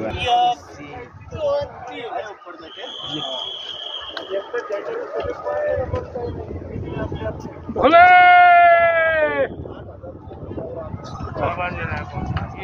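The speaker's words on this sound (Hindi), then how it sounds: "बकरी" Goat bleating on a Himalayan mountain trail near Sheshnag on the Amarnath pilgrimage route, one loud drawn-out bleat close by, with people talking and outdoor bustle around it.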